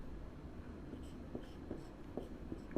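Chalk or marker tapping and scratching on a board while equations are written in a physics class, a series of faint, short strokes in an uneven rhythm.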